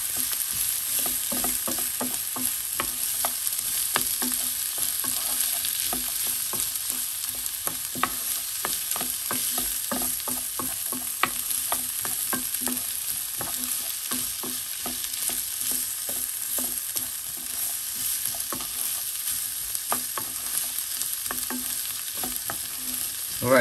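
Vegetables and peas sizzle steadily in a pan while a spoon stirs them, giving continuous frying hiss broken by frequent scraping and clicking strokes, close and moderately quiet, with no talking.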